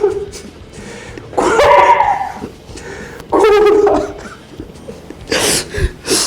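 A person imitates the howling, whimpering cry of a water deer, with several strained yelping bursts separated by short pauses, loud and close; the calls sound rather dog-like.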